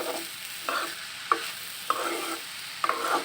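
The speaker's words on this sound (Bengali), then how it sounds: "এখন 4-5 মিনিট নাড়াচাড়া করতে থাকবো" A spoon stirs khichuri ingredients frying with bay leaves in a pan: a steady close sizzle with four or five distinct scraping strokes at regular intervals, and no voices.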